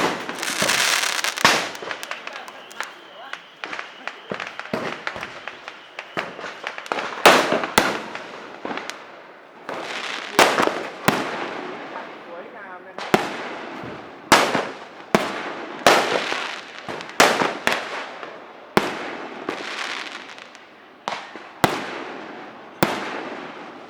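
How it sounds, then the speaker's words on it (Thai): Firecrackers and fireworks set off by young people at a Hmong New Year celebration: rapid crackling strings at first, then loud separate bangs popping every second or so, some near and some farther off. "วัยรุ่นที่นี่ก็จะ ออกมาจุดประทัดแล้ว จุดพลุกันอย่างสนุกสนานเป็นการเฉลิมฉลอง"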